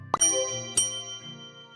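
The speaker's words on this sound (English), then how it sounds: "So that's the call bell." A shop call bell in the cozy puzzle game Pieces of the Past rings twice in quick succession, each a bright metallic ding with a ringing tail, over quiet background music.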